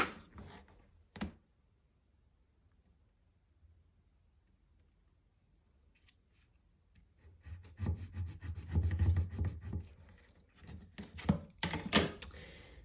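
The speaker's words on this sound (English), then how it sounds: "grab your scoring tool again and your ruler, and you're going to score this corner to this corner" A scoring tool drawn along a ruler across card gives a faint scrape, followed by a longer run of close, rasping strokes that grow louder toward the end.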